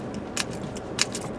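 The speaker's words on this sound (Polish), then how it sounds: "bo te moje klucze, słyszycie, to jest masakra, taki wielki brylok jest" A large bunch of keys jangles in a few quick, bright metallic bursts over a low background rumble from a car.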